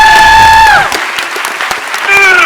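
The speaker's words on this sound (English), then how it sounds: "you should have heard the applause radiating from this room" A room full of people at an exoneree showcase event claps and cheers, the applause sustained through the whole short stretch behind a singer's held, sliding notes.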